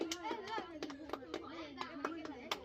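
Sharp hand claps repeat in an irregular run, mixed in with close, continuous talking voices that include a child's.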